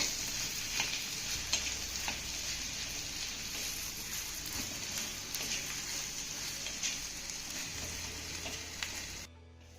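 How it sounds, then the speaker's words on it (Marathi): Salt-roasted potato bharit sautes in a pan over a medium flame, giving a steady, close sizzle and frying hiss with occasional stirring clicks and scrapes, without talk. "आपल्याला दोन ते तीन मिनटं चांगलं परतून घ्यायचं आहे"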